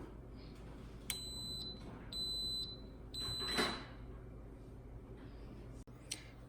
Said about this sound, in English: So the Instant Pot just beeped and turned off.